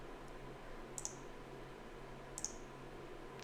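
Two quick pairs of computer mouse clicks, close and crisp, about a second and a half apart over a steady low room hum.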